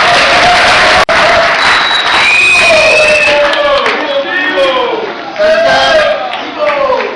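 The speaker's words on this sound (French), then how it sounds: "Est-ce que nous pouvons encore applaudir cela?" A crowd applauds steadily with loud cheers and whistles rising over the clapping, sustained throughout and fairly close.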